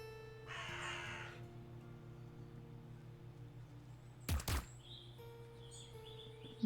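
Crows in Wytchwood give a couple of sharp, loud caws close by, standing out over quiet game ambience and a low steady hum.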